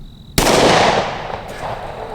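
A single sharp, loud gunshot from a Smith and Wesson M&P 2.0 10mm pistol at a shooting range, cracking suddenly after a quiet moment and ringing out in a decaying echo.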